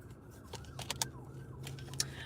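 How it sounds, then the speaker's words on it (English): Faint wailing sirens rise and fall in the distance outside a parked car with its engine idling, a low steady hum underneath and scattered clicks on top. "I can't help the sirens in the background."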